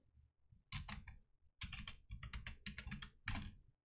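Keys on a computer keyboard are pressed in quick clusters to enter a MySQL root password on Windows. The clicks are close and crisp, with short pauses between bursts, and no voice is heard.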